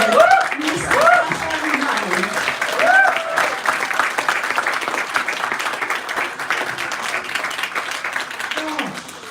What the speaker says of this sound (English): Let us all welcome with a big round of applause for our Regional Chief Nurse for South East NHS England